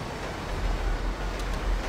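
Train passing in a video game, heard as a steady low rumble and rolling noise, fairly loud, continuous and without voices.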